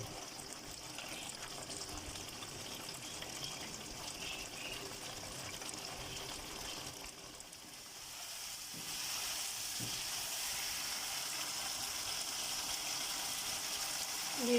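Chicken karahi gravy reducing in a pan, with a continuous, moderately loud bubbling sizzle that holds steady and swells slightly toward the end, with no voices.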